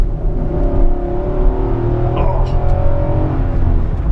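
The V8 engine of a 2018 Infiniti QX80 SUV revs and accelerates with a deep, steady rumble, heard from inside the vehicle, continuous and loud throughout.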